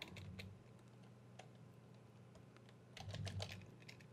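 Quick, close typing on a computer keyboard while a file name is entered in FL Studio, light rapid key clicks in two short bursts over a low steady hum, no talking.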